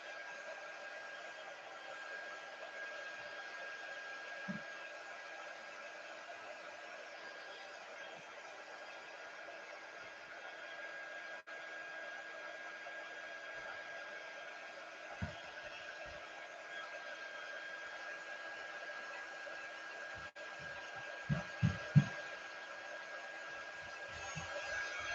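Steady hiss and whir of a dryer blowing over a painted chalk-paste Halloween tree decoration, running continuously at moderate level, with a few faint low thumps and knocks near the end.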